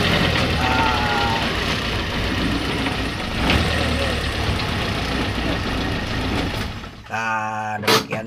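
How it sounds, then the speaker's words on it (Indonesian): A Suzuki Carry 1.0 engine idles in reverse gear with a persistent knocking rattle, running close and continuous under a faint voice. "Kalau ada bunyi kotak petuk trok-trok-trok-trok seperti itu tadi"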